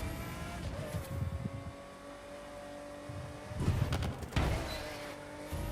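A touring car's engine in the racing game The Crew 2 hums and revs under a steady drone, with rougher bursts of acceleration and road noise near the end, heard fairly faint and without speech.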